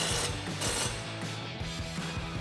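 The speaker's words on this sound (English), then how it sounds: "We'll tighten that down with our 21mm socket" A ratchet with a 21mm socket tightens a tie rod nut on a RAM 1500 front suspension, rapid clicking strokes in short bursts, close and loud.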